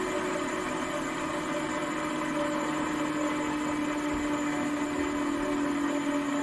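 A bench-top belt sander with a condenser-start motor and brake drones with a steady electric hum and a constant tonal whine, close and even throughout, with no talking.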